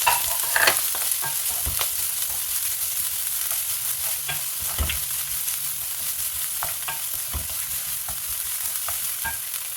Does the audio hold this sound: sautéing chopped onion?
yes